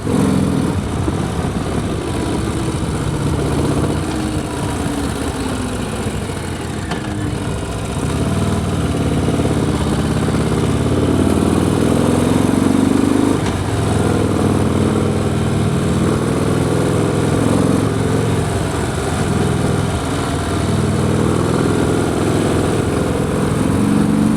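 A Harley-Davidson motorcycle engine runs steadily at a fairly constant speed, with a loud, continuous rumble and no talking over it.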